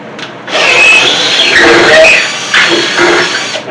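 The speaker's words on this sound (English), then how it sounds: "Then you're going to drill through." A power drill bores through a wooden cornhole board leg, its whirring, grinding drive steady and close for several seconds with brief dips in pitch as the bit bites into the wood.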